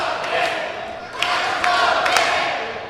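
Wrestling crowd behind the ring shouting encouragement to a downed wrestler, a mid-distance roar of voices with scattered sharp yells rising and falling over three seconds.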